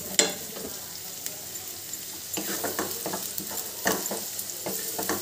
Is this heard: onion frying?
yes